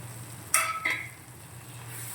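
Sautéed turkey berries are stirred into a pan of frying kuzhambu, giving a couple of close spoon scrapes and clinks over a low, steady sizzle.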